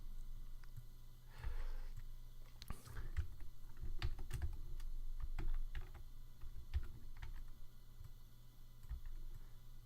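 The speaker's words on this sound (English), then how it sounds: "just type in any name" Soft, quiet computer keyboard typing in a home recording setting, scattered light key clicks at an uneven pace, with faint room noise and no speech.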